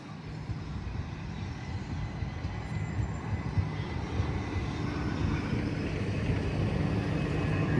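A Class 377 electric train passing through South Croydon station, a steady broadband rumble and roar that builds slightly as it runs by, with no voices.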